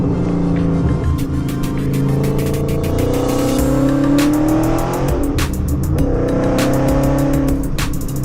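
A loud car engine with a Roush axle-back exhaust revs hard and continuously, its exhaust roaring and rising in pitch with a rattling, throaty texture.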